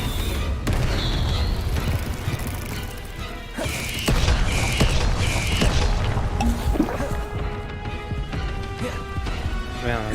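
A Bombarda spell explodes in Hogwarts Legacy, heavy booming crashes and thuds ringing out among game effects and music, with a voice speaking briefly.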